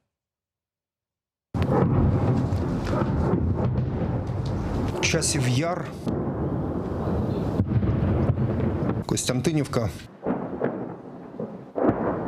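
Deep rumbling booms and blasts of artillery shelling roll through the scene on the front line at Bakhmut, some sharp and close, with someone briefly speaking over the din.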